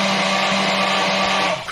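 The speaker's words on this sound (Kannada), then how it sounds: "ಫಸ್ಟ್ಗೆ ಒಂದು ಮಿಕ್ಸಿ ಜಾರ್ಗೆ ಟೊಮೆಟೊ, ಶುಂಠಿ, ಅರಿಶಿನ, ಉಪ್ಪು ಹಾಕಿ ಗಿರಿ ಅಂತ ಮಿಕ್ಸಿ ಮಾಡಿಕೊಂಡೆ" A mixer grinder jar blends tomato, ginger, turmeric and salt with a loud, steady motor whir that starts to wind down at the very end.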